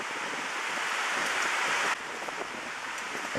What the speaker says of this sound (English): we are right now going back because it has already started raining